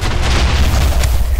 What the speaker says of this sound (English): so TNT got on fire